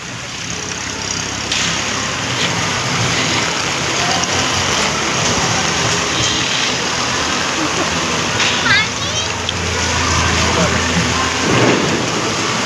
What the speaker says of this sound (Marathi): भिजले टायर, पावसाने घातलं पायावर पाणी गाडींच्या.